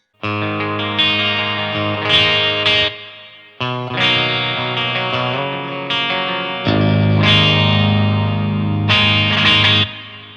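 Clean electric guitar chords from a Schecter KM-7 MK-III EX 28-inch-scale seven-string ring out with sparkly, shimmering reverb tails, strummed in sustained phrases, loud and close with no voices.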